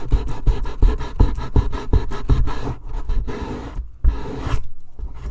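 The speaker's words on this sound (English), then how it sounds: "But if you just sand it enough, that should disappear." Dried filler over a seam on a LARP prop is sanded in steady, rhythmic rasping strokes close up. The strokes pause briefly, then resume less regularly.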